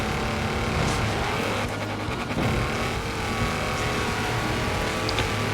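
A racing video game car engine drones loudly and steadily as it drives, with shifting revs and tire and road noise layered in and no talk.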